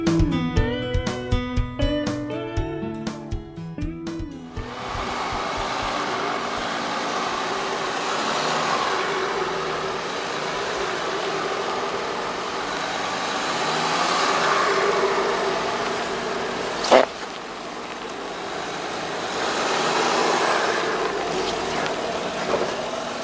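A 2014 Volkswagen Touareg TDI diesel engine runs steadily at a mid-pitched hum, heard after a few seconds of music, with a brief sharp knock partway through.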